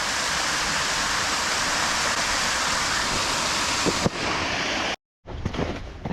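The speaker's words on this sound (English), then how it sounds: "Look at this waterfall." Water pours steadily over a small waterfall from a dammed creek pond, a loud continuous broadband rush that fills the clip before briefly cutting out near the end.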